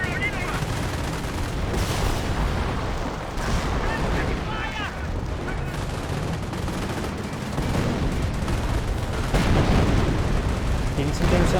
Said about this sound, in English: Another artillery barrage there.